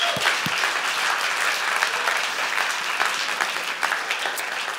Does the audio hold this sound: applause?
yes